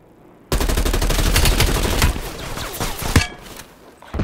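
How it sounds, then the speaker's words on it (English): Loud, dense barrage of artillery and explosive gunfire in the Call of Duty: Black Ops Cold War Fireteam: Dirty Bomb mode, erupting suddenly after a quiet moment, rumbling continuously with one sharp blast near the end before fading. "Incoming artillery."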